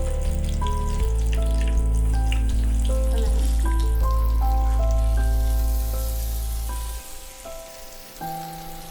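Battered corn kernels fry in hot oil for crispy corn, a bubbling, rain-like crackle running under prominent background music, with no talking.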